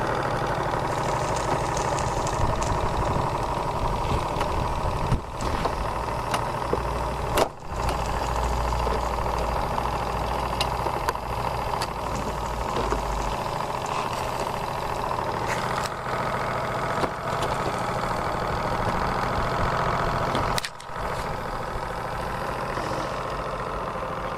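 An engine idles steadily at close range, a constant mid-pitched rumble with occasional faint clicks and knocks, no speech.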